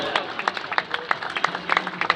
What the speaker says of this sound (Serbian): Ajmo veliki aplauz!